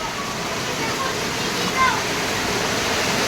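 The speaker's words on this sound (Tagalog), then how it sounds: "Grabe po, taas ang baha." Floodwater after Typhoon Aghon rushes in a loud, steady roar that holds without a break, swelling briefly partway through.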